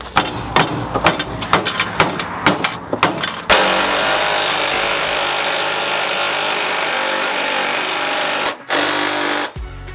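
Bolt being threaded back in and tightened on a Ford F100 engine: a run of quick ratchet clicks and taps, then a long, loud continuous power-tool whir that stops abruptly and briefly restarts.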